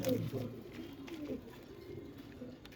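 Pigeons coo softly in a home collection, a faint low burbling that runs beneath people talking nearby.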